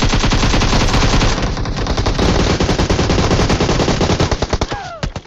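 An AUG assault rifle in a video game fires in loud, rapid automatic bursts that run almost continuously, then slow to spaced single shots near the end as the magazine empties.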